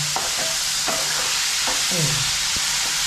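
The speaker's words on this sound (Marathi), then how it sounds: "आता आपण जरा कांदा थोडासा परतून घेऊया" Onion sautéing in a pan for a roasted brinjal bharit, a steady close frying hiss with a few short spatula scrapes and knocks over it.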